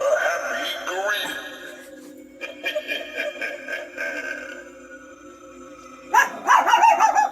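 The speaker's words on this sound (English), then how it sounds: "Not the barking, that's my puppy hamster." A small puppy yips and barks in short bursts indoors, with a high-pitched outburst near the end over a steady background of voice-like tones.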